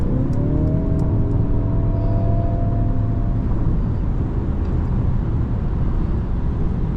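A 2023 Mercedes C300 4MATIC sedan with a 9G-Tronic automatic transmission accelerates, its engine note climbing briefly at first and then settling into a loud, steady roar, with no talking.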